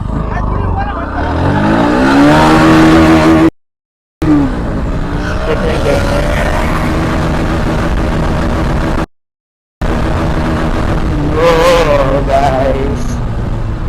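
A Bajaj Pulsar NS motorcycle accelerating through first and second gear: a loud engine whine climbs steeply in pitch, breaks off in short silent gaps, then climbs again, close and continuous.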